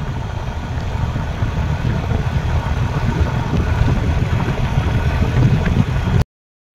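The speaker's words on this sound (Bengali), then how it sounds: "মাছ ধরার ট্রলার এগুলো।" A fishing trawler's engine near the shore at Kuakata, Bangladesh, makes a steady low chugging drone at even loudness with no pauses, then cuts off abruptly.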